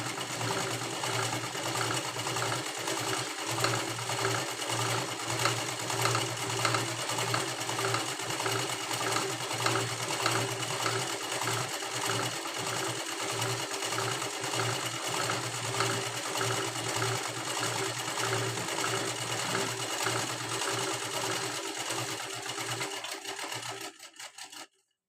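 A sewing machine runs a long straight seam on a 1-inch folded blouse strip, a steady close whirring drone with fast rhythmic needle clatter that continues almost unbroken before stopping abruptly at the end.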